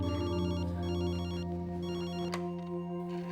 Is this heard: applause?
no